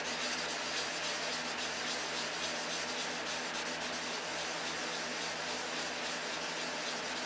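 Wet sanding with a small piece of 600-grit sandpaper on an aircraft registration number repair, a steady, even rubbing hiss that runs continuously, close and fairly quiet.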